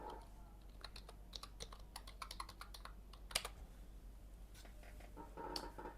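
Someone types on a computer keyboard in a quick, irregular run of crisp clicks and taps, fairly close and quiet, with no talking.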